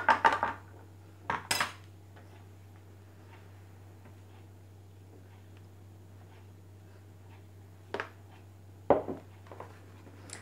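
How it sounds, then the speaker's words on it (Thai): A utensil scoops thick black khanom piak pun, a Thai pudding dessert, into a mold with a few sharp metallic clinks and scrapes against pots and pans, sparse and close over a low steady hum, no talk. "เดี๋ยวเรามาเทใส่พิมพ์กันนะคะ"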